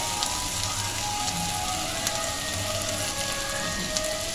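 Chopped tomatoes and turmeric sizzle and crackle steadily in a hot pan of oil for a fish chorchori, an even, close frying hiss with no talk.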